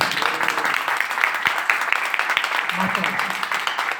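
Audience applause at a business seminar hall, steady scattered clapping from many people throughout, loud and close, with faint talk underneath.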